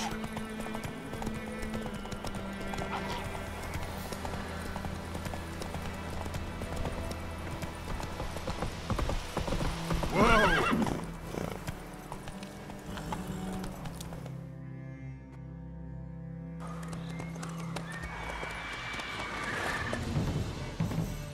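A horse in the Witcher 3 video game gallops with rhythmic hoofbeats that run the whole stretch, and a sharp neigh breaks through midway over a background of game sound.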